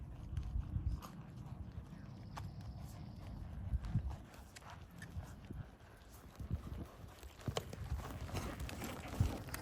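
A horse canters during a saddle fitting, its hooves thudding in a soft, rhythmic beat on the ground over a steady background hiss, with occasional faint talk.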